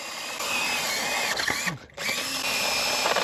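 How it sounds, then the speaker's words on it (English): A power drill with a diamond hole saw grinds steadily through a concrete block, a continuous high whine with a brief dip and pause midway before resuming at full strength. "drilling through concrete and tile might be the best use of this thing"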